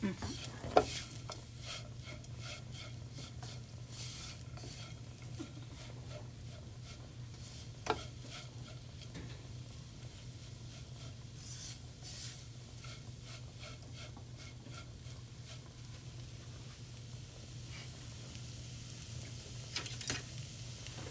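Minced beef and spices stirred in a pan on medium heat for a beef puff filling, a low steady sizzle with occasional faint scrapes and clinks spread sparsely across a long, quiet stretch.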